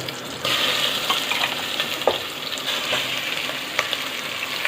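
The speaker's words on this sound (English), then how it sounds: "Now I add my chicken." Chicken pieces for a Karnataka-style chicken curry going into a hot pan and frying, with a steady close sizzle and several stirring scrapes and clinks along the way, with no talk.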